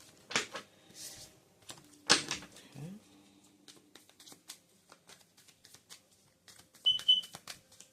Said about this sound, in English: Let's just shuffle these cards a little bit.